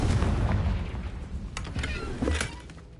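A Confringo spell explosion in the video game Hogwarts Legacy, a heavy booming blast that rumbles and fades, followed by a couple of sharper crackling impacts.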